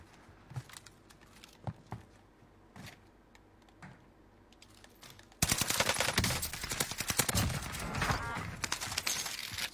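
Video game gunfire, sparse faint shots at first, then a loud sustained rapid-fire burst of dense, crackling automatic fire lasting several seconds.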